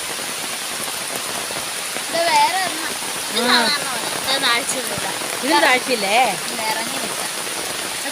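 Steady heavy rainfall pours down over a rubber plantation, a broad close hiss with a watery, flowing edge, while a person talks in short bursts over it.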